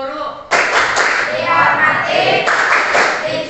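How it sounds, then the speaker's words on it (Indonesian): A classroom of schoolchildren does a class clap together: a sudden loud burst of many hands clapping at once, sustained and close, swelling again partway through. "Tepuk guru."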